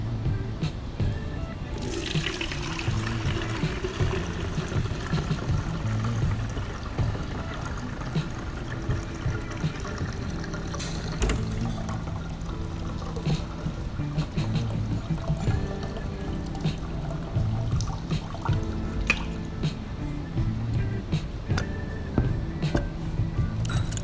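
Cold brew coffee concentrate poured through a fine mesh sieve, a continuous splashing trickle of liquid that runs steadily at close range for over twenty seconds.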